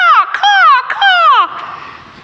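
A voice imitates a crow's call with three drawn-out, falling caws in quick succession, close and clear.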